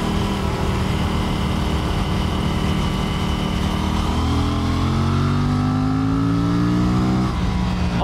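An Aprilia RS 457 motorcycle engine in sport mode roars loud and close, revving steadily, then climbing through rising pitch as it accelerates hard, with no voices.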